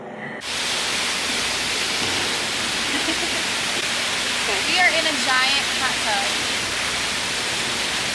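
Natural volcanic runoff water rushes steadily in Costa Rica, a loud continuous broadband roar close by, with faint voices briefly audible partway through.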